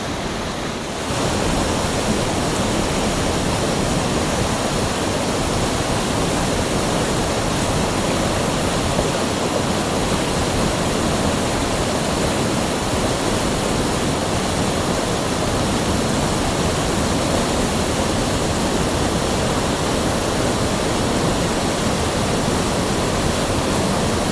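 A large waterfall roars steadily beside a riverside camping and fishing spot, a dense, unbroken wash of rushing water that fills the whole clip at close range.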